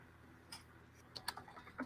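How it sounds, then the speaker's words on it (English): A computer keyboard clicks under light typing: a few soft, scattered keystrokes, some in quick pairs, close and faint in a quiet room. "I'll be typing something out and then I'll say it."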